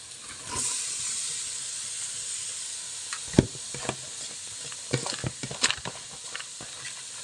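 Beetroot goes into a pan with softened onions and sautés, a steady hissing sizzle close by, broken by a thud and then a cluster of clinks and scrapes from stirring in the latter half, no voices.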